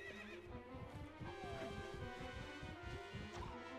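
A horse in Zelda: Twilight Princess HD neighs and whinnies loudly over clip-clopping hooves and a steady game soundtrack, with the whinny rising and falling across a few seconds.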